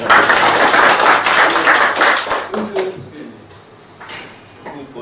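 A small indoor audience at a dinner meeting bursts into loud, dense applause that thins to a few scattered claps and then stops.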